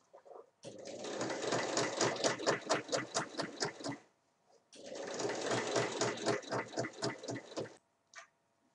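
Sewing machine stitching closed a fabric basket with a drawstring-pouch style closure, running in two steady bursts of rapid rhythmic stitching with a pause between, close and clear, followed by a brief click.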